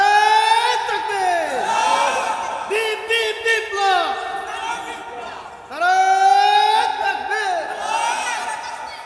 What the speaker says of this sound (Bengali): একটু চিল্লায় তাকবীর দেন